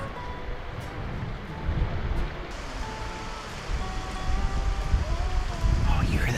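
Water flows steadily at Seven Falls on a Tucson hiking trail, a continuous rushing wash with a low rumble that swells slightly toward the end, heard close and without a break.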